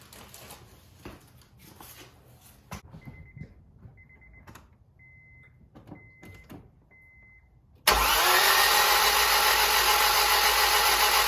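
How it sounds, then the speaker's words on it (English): Car engine cranked over by the starter with the spark plugs removed and the fuel pump not priming: faint clicks and clatter, then a sudden loud, steady whirring crank that fills the last few seconds. "I'm gonna turn it over without the spark plugs in"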